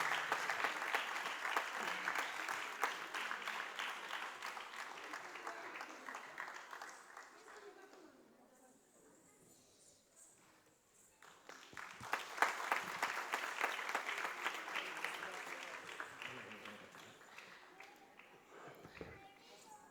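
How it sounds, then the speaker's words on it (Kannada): An audience claps at a Yakshagana performance, sustained applause that fades to a brief lull, then swells again and carries on, with children's voices and footsteps mixed in. "ಎಲ್ಲ ಶ್ರೋತೃವರ್ಗದವರು ಚಪ್ಪಾಳೆಯ ಮೂಲಕ ಮತ್ತೊಮ್ಮೆ ಅವರನ್ನು ಪ್ರೋತ್ಸಾಹಿಸಬೇಕಾಗಿ ಕೇಳಿಕೊಳ್ತಾ ಇದ್ದೇನೆ"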